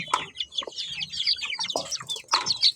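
Young chicks being fed beans cluck and peep repeatedly in a busy, close flurry of short calls, with no talk.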